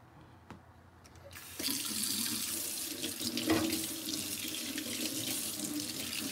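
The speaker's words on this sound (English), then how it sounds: "So once you're done, you're gonna rinse everything off." Lukewarm kitchen sink tap water runs onto a trumpet being rinsed of suds, starting softer with a few knocks, then a fuller steady splashing stream, close and continuous with no talking.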